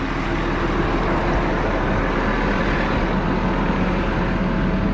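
A heavy road machine drives along a gravel road while crowning the road bed, its loud engine a steady, close, unbroken rumble that fills the whole stretch.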